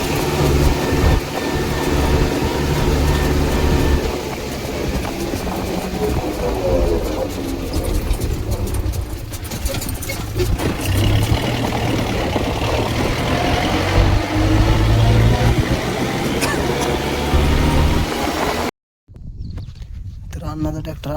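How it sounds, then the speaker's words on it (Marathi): A tractor with a plough attached drives along, its engine a loud, steady low rumble with rattling over it and voices talking; near the end the sound cuts out briefly, then resumes. "आता आपण आमच्या ट्रॅक्टरला नांगर जोडलाय"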